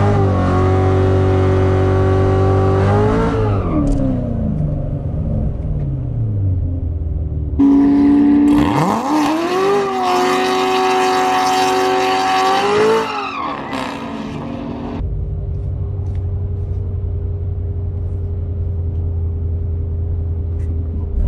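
A race car on a half-mile top-speed run revs loudly and close, climbing through the gears with sharp upshifts, then roars past at full throttle before settling into a steady lower drone as it slows.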